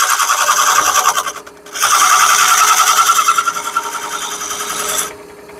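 A power sander grinds a small part to round it off and taper it, a loud buzzing whine running in two bursts with a brief pause between, then easing off as the tool winds down.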